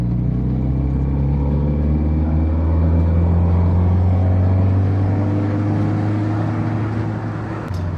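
An Autobianchi A112 Abarth engine pulls under throttle while driving, a loud, steady low drone heard from inside the car, holding a constant note with a slight rise and fall.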